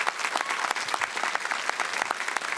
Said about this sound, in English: Round of applause for the crew who are in the room here with us then as well.